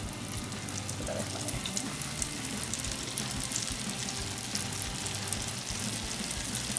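Chicken spring rolls frying in hot oil in a wok over a medium flame, a soft, steady crackling sizzle throughout, fairly quiet and even, with no one talking.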